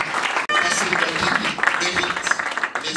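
A crowd at a press gathering of over 300 journalists claps in a dense, steady round of applause, with voices faintly mixed in beneath the clapping.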